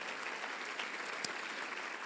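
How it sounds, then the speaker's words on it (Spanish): Steady applause from a church congregation during an evangelical sermon, a dense even wash of many hands clapping throughout with a brief louder accent near the middle. "Dale un aplauso de gloria al Señor"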